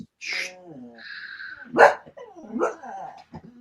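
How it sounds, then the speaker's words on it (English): A dog barks and whines in a few close, uneven bursts, with one loud sharp bark in the middle, and no clear speech over it. "here's a dog"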